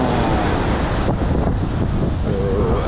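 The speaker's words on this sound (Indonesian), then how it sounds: "Dan ombaknya gede banget." Large ocean waves surge and wash at a beach in a continuous broadband roar, heavily buffeted by wind noise on the microphone, with no clear voices.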